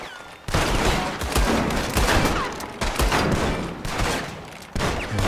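Rapid bursts of gunfire from the video game Red Dead Redemption 2, a loud sustained fusillade of overlapping shots with brief pauses between volleys, close and dominant.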